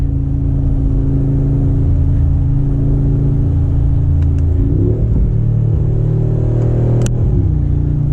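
Mercedes G63 AMG V8 engine accelerating in manual mode, a loud, close, steady rumble with engine pitch rising and a gear shift around midway, droning on without talk.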